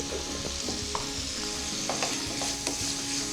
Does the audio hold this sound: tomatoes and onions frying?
yes